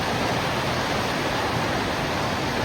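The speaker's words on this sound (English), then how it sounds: "Today is a good day with a lot of water flowing." Falling Springs Falls, a large waterfall in Alleghany County, Virginia, runs heavy after rain, a dense, steady roar of falling water filling the whole clip without a break, loud and unvarying.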